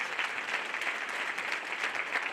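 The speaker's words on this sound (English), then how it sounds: "All of our winners, let's give them a round of applause." A breakfast-event crowd applauds award winners with continuous clapping, slightly distant and moderately soft, sustained for a couple of seconds with no talking.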